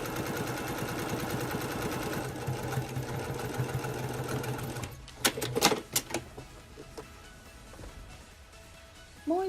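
A sewing machine stitches the outer pocket of a phone shoulder bag remade from an old kimono obi, whirring steadily for about five seconds before stopping, followed by a few close clicks and handling noises.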